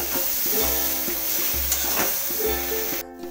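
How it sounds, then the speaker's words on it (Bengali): Thin slices of green mango frying gently on low flame, a soft continuous sizzle with a low steady hum underneath, close and even throughout before cutting off abruptly at the end. "আর আমি এটা লো ফ্লেমে ভালো করে ভাজবো।"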